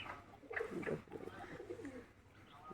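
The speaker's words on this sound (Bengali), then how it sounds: "এটা কি মাদি পায়রা এটা মাদি পায়রা" Female pigeons coo softly nearby, a few low throaty rolling calls in quick succession, fairly quiet overall.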